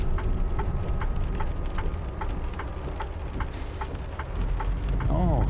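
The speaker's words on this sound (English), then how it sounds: "Oh, thunder." Thunder and rain heard from inside a car driving along small back roads: a continuous deep, heavy rumble fills the whole stretch, with a steady, regularly spaced ticking pulse on top and a brief rising whine at the very end; no one speaks.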